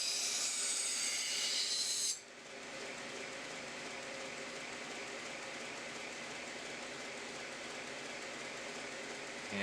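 A 2x72 belt grinder running a 220 grit belt grinds a micro bevel on a knife blade, a steady hissing abrasive rasp that starts loud and bright, then settles into a continuous, slightly duller grind with no talk.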